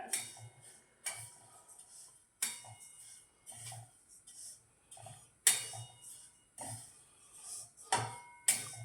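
Sesame seeds roasting dry in a pan for til sukhdi, sharp crackles and clinks repeating about once a second, close and fairly faint, no talk.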